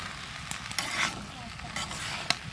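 Chopped vegetables fry in a pan with salt, turmeric and chili while being stirred, a soft steady sizzle broken by a few sharp scraping clicks of the spoon, close and fairly quiet.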